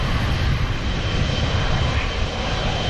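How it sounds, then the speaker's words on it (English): A Cathay Pacific Boeing 777 extended-range jet at Manchester airport, bound for Hong Kong, gives a loud, steady engine roar with deep rumble, continuous and close throughout. "stunning 777 of Cathay Pacific"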